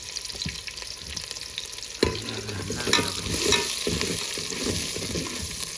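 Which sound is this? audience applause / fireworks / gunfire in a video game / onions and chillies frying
onions and chillies frying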